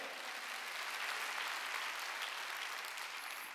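A church congregation at a Wednesday worship service claps hands together in a steady, dense wash of applause, fairly distant and even throughout, with no clear talk over it.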